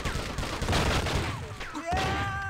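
Rapid gunfire from the video game True Crime: Streets of LA, dense overlapping shots and blasts in a loud continuous barrage with no talking.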